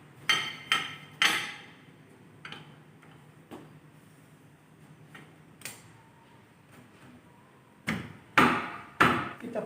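Brake shoes fitted onto a drum brake, giving sharp metallic clicks and knocks in clusters, with a few taps at the start, sparse ticks in the middle and louder clanks near the end, close with a faint background hum.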